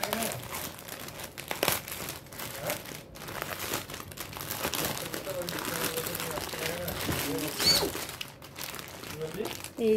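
Gift wrapping crinkled and torn open by hand, close and busy rustling throughout with a child's and adult's voices talking over it.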